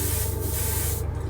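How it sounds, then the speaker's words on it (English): A short, steady hiss of an airbrush test spray for a 1/48 F-15C scale model runs for about a second close by, then cuts off abruptly. "we'll do a little test spray."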